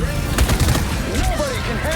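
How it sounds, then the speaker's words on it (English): Rapid bursts of explosive missile launches and booms fire in a dense barrage in Marvel Rivals, with whooshing streaks overhead and faint voices beneath the noise. "You would expect Iron Man to launch a gazillion missiles"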